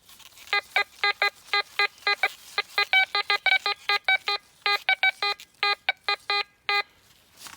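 A metal detector sweeping the ground in a forest gives out a string of clear, close electronic beeps in uneven rhythm, some pitched higher and some lower, over a quiet outdoor background.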